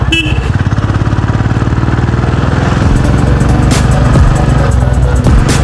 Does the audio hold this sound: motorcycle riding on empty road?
yes